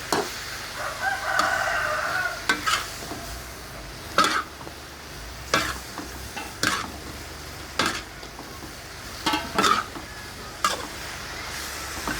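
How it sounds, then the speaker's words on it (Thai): Kanchong greens are stir-fried in a pan, with a spatula scraping and clacking in repeated strokes over a soft, steady sizzle. "ผัดผักกันจองให้สลด"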